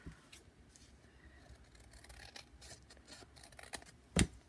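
Scissors trim paper for a handmade junk journal booklet, a faint soft snipping over quiet room noise ending in one crisp close cut.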